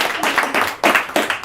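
An audience at a comedy monologue show clapping, close bursts of applause that swell and fade in quick waves.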